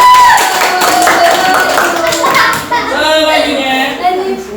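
A group claps briefly, the applause mixed with voices calling out over it.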